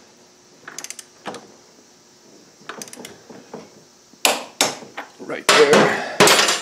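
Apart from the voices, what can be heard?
tightening motorcycle rear axle nut with wrench, Kawasaki KLR 650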